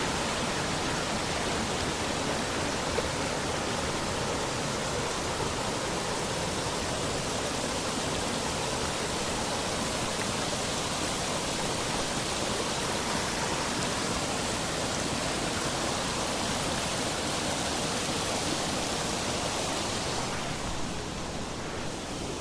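Creek water rushing steadily at a trail crossing on a hike along Grove Creek, a dense, unbroken broadband roar that stays loud and even throughout, with no voices.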